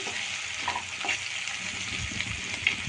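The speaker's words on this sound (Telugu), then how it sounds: "అల్లం వెల్లుల్లి పేస్ట్ మొత్తం మనకి పచ్చివాసన పోయేంత వరకు మనం ఫ్రై చేసుకోవాలి." Ginger garlic paste fries in a pan for rajma curry, a steady close sizzle with light stirring scrapes throughout.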